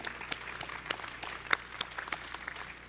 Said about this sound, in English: we wanna give a big round of applause for JATA.